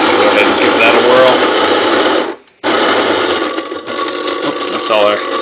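A coffee grinder grinds beans to a medium-coarse grind, a loud, steady mechanical whir that cuts out briefly for a moment, then resumes at a slightly lower level.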